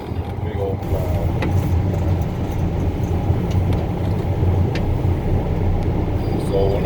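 A big snow plow truck drives with a steady low engine rumble and road noise that holds evenly throughout, without clear shifts or pauses.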